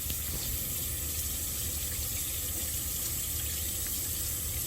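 Tap water runs steadily into a sink during handwashing, a constant close hiss with no voices and no change in level throughout.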